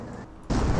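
A booby trap detonates in Company of Heroes, a sudden loud, broad explosion bursting in after half a second of low, rumbling battle ambience and holding strong to the end.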